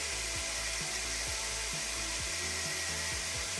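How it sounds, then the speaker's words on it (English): A power tool whines steadily while shaving burrs off the cut end of a threaded rod, with a loud continuous high-pitched grind and repeated dips in pitch as the tool bites into the metal. "I just got to shave off that imperfection so the thread will work"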